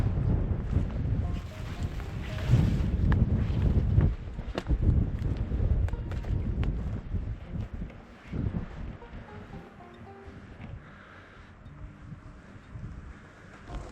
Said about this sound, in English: Hopefully this wind isn't really bothering you.